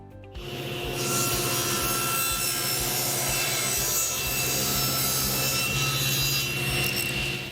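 A saw cuts wood through a Microdial tapering jig, one steady, loud, continuous cutting drone that runs unbroken for several seconds with no talking.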